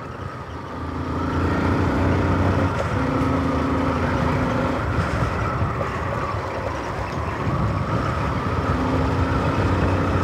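An XR motorbike engine droning and revving steadily, with a continuous rumble and rising and falling pitch. It sounds close and loud, and nobody speaks.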